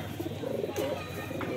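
A pigeon coos in a soft, low, throaty burble, heard close up over a bit of background noise.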